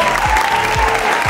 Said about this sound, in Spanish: Stephanie Schiller, fuerte la palma para ella.